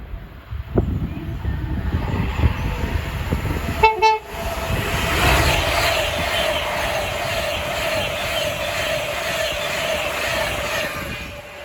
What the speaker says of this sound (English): The next train to pass by is going to be an Avanti West Coast class 390 Pendolino from London Euston to Carlisle.